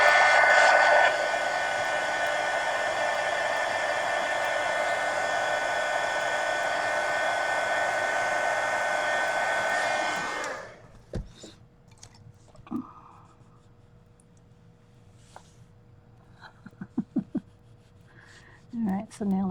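A hair dryer blows steadily and loudly for about ten seconds while drying a coloured drawing, then clicks off, leaving faint handling noises and brief bits of speech in a quiet room.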